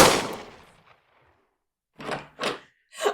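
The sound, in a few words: several gunfire shots sound effect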